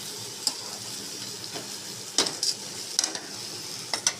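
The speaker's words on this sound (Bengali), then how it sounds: "ভালো করে কষিয়ে নেব, যাতে আদার কাঁচা গন্ধটা না বেরোয়।" Ginger and black mustard paste sautés in a pan with a steady sizzle, broken by a few sharp scrapes and taps of a stirring spoon against the metal.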